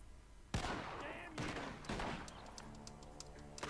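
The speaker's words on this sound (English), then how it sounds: "The gunshots are coming from that." Several loud gunshots in Red Dead Redemption 2 crack out in quick succession, each sharp report trailing into echo, followed by a faint busy tail of game ambience.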